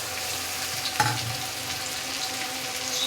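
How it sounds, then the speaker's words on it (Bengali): Ginger garlic paste hits hot oil with reddish-fried onions in a pan, giving a steady close sizzle with a brief stir or clatter near one second. "দেখো পেঁয়াজটা আমার লালচে লালচে করে ভাজা হয়ে গেছে। এর মধ্যে আমি আদা রসুন পেস্টটা এটা দিয়ে দেবো।"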